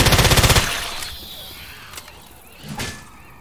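A rapid, close burst of automatic gunfire in Left 4 Dead 2 opens the moment, then stops, leaving a few scattered thumps and a quieter game ambience.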